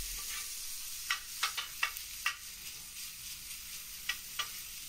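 Chopped cheese meat and cheese frying in a pan while being stirred and folded, a steady hiss of sizzling broken by several distinct scraping and stirring strokes, close and clear with no talk.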